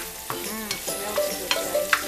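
Garlic hits a hot pan for a mixed vegetable stir fry, giving a close, soft sizzle with a few sharp stirring scrapes and clicks from the utensil.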